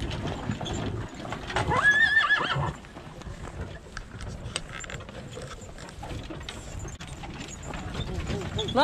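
Stallions neigh loudly and their hooves clip-clop in a rural Romanian yard near Stupca, with harness jingling and men calling out to the horses throughout.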